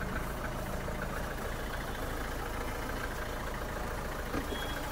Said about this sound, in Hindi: भैया बैटरी लगी है, इंजन ओके चल रहा है